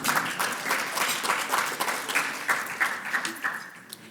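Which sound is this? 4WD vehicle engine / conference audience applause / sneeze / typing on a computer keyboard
conference audience applause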